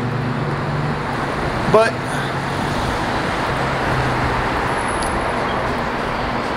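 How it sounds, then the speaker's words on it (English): Steady road traffic roars past nearby with a constant broadband rumble and a brief louder swell as a truck goes by, while someone speaks a single word. "See if I can get run over by this truck."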